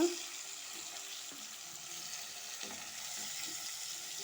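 Fried ivy gourd tipped into a simmering curry sizzles in the pan, a soft, steady close-up hiss and crackle with a few light stirring scrapes and a sharper burst at the very end.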